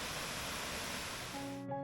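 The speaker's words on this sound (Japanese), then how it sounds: "こちらが白糸の滝です。 勢いのある滝ではなく、広い範囲に水が流れ落ちており" Shiraito Falls in Karuizawa, Nagano, on a rainy day, its water spilling gently across a wide rock face rather than in one forceful drop: a steady, dense rushing hiss that continues evenly until it cuts off near the end.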